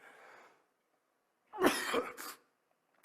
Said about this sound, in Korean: 그러니까 따가우니까 계속 기침이 나는 거예요